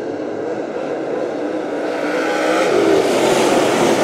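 Race cars roar together on an oval track at a lap-24 restart, a steady loud engine drone that swells slightly toward the end with a faint hint of tire squeal.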